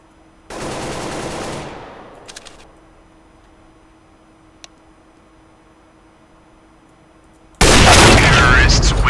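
Gunfire in Counter-Strike on de_mirage comes as a loud rapid burst of about a second and a half, then near silence with a faint click, then a second, louder barrage that runs to the end.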